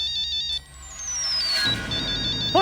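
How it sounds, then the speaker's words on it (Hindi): A mobile phone rings with an incoming call in a Hindi TV drama scene, a bright electronic ringtone melody repeating its tones over a low background hum for under three seconds. "किसे फोन कर रहे हो नील? रागिनी को।"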